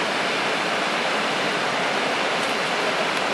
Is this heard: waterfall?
yes